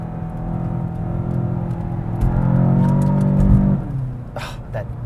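A 2019 VW Jetta GLI engine in sport mode rumbles loudly and builds in revs, then drops away after a gear change, with a faint chirp at the end and no talking.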